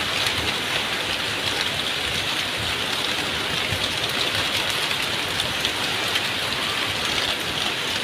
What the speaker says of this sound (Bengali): এরকম বৃষ্টি ভেজা ওয়েদারে